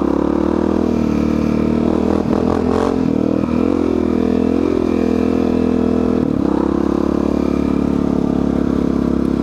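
A motorcycle being ridden on the road, its engine droning loud and steady close by with wind rush, the pitch dipping and rising as the rider shifts and changes speed.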